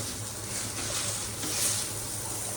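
Tomato and green chilies being crushed with a metal pot on a hot griddle give off a steady, close sizzling hiss with faint scraping, continuous and without talk.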